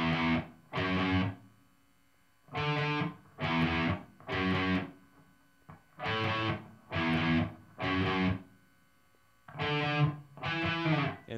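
Distorted electric guitar riff played in repeated chunky bursts with short gaps between phrases, loud and alone with no talking.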